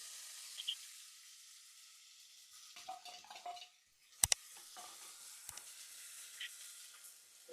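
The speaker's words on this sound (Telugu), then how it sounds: "శనగపప్పు వేగిన తర్వాత ఎర్రగా వచ్చినాక ఉల్లిపాయలు వేసుకుంటున్నానండి." Sliced onions tossed into hot oil with reddened chana dal: quiet, faint sizzling and frying hiss, with a few stirring scrapes and a sharp spoon clack near the middle.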